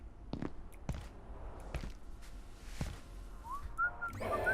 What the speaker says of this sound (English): He heard my whistling.